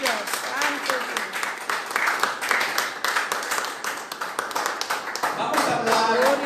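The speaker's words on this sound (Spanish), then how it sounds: "Denle un aplauso a Jesús" Church congregation applauding during a Spanish-language worship service, a steady wash of clapping and scattered cheers lasting several seconds, with voices mixed in.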